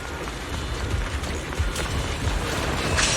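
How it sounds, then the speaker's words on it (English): Stormy wind and rain in the video game Zenless Zone Zero, a steady broadband rush with gusting swells and scattered patters, continuous and fairly loud with no talk over it. "The wind and rain are picking up."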